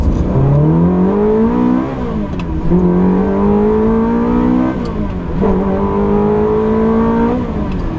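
A 2004 six-speed manual Ferrari 360 Modena with a racing exhaust, its engine loud and close, rising in pitch through three gear shifts with brief dips between each pull, heard alone.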